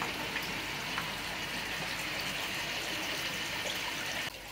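Water pours steadily into a garden fish pond through an intake grid and down a pipe, a continuous close splashing gush with no pauses until it cuts off near the end.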